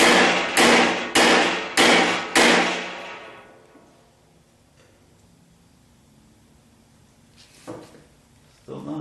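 Five sharp metallic hammer taps strike a strut rod on a 1976 Corvette in a garage, evenly spaced and loud, then the ringing fades into near silence before a couple of faint clunks.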